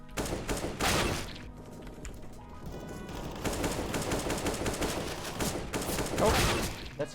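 Rapid, dense automatic gunfire from CS:GO during a warm-up session, with sustained bursts and short pauses, loud and continuous for several seconds and no speech.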